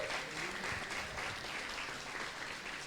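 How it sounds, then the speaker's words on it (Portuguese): A church congregation applauds to welcome visitors, dense steady clapping from many hands filling the room at moderate distance for a few seconds. "vamos dar uma salva de palmas"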